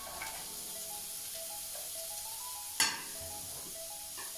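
Onion and celery sauté in a pan with no oil, making a soft, steady sizzle with light stirring scrapes and one sharp clink of a utensil against the pan partway through.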